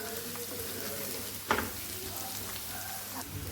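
A paste of coriander, green chili and garlic sizzles in a hot pan for bhindi, as a continuous crackling fry with one sharper stir or spatter partway through.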